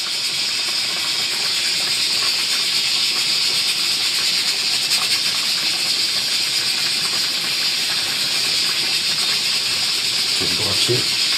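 Pork kimchi stew boiling in a camping pot, heard as a steady loud hiss with a bubbling, sizzling texture that runs unbroken and close throughout, with a few faint low knocks near the end and no talking.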